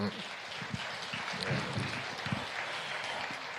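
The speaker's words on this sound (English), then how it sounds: "Please, ladies and gentlemen, a final round of applause to our 2 panelists." Closing round of audience applause for two panelists at a science and innovation panel event, a soft, somewhat distant patter of clapping that stays steady throughout, with faint murmuring voices underneath.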